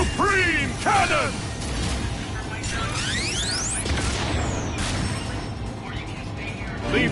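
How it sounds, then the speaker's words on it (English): Supreme Cannon attack from the video game Digimon Story Time Stranger: a sustained mechanical energy blast with sweeping tonal zaps and crackling bursts, loud and continuous throughout. "It is time! Supreme Cannon!"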